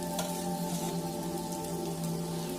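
Cumin, chili and coriander fry in a hot pan with a steady, dense sizzle that carries evenly from start to finish, close and unbroken.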